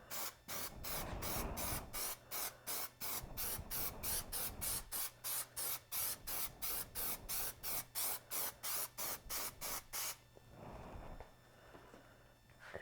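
Plasti Dip aerosol spray coating an ATEM Mini Pro, a rapid series of short, close, loud hissing bursts in a steady rhythm for about ten seconds, then a pause and a softer final puff.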